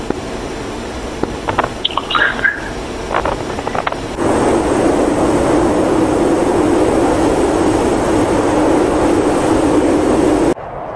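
A jet engine roars at full throttle in the DCS World flight simulator, a loud, steady broadband rush that stays constant for several seconds after a few faint clicks, then cuts off abruptly.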